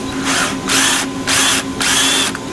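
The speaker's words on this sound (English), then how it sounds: "you want to drill out the 4" A power drill with a 3/16 bit whirs in three loud bursts with short pauses between, close up, as it drills out metal pop rivets on a flash dryer.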